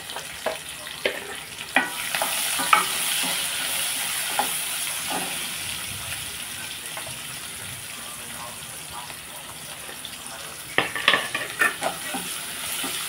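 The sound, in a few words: onions and green chillies frying and being stirred with curry leaves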